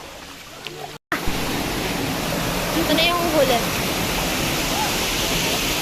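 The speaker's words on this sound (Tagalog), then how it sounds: "Sa ilog na naman tayo." A river flows with a steady broadband rush from start to finish, loud and continuous after a brief dropout near the first second, with a voice speaking briefly over it.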